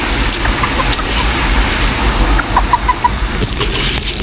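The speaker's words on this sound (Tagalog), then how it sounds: "At ganun din po itong mga manok na nakatali." Tethered farm chickens cluck in short, scattered calls at a fishpond, heard over a steady outdoor rumble with mid-distance, moderately loud bursts throughout.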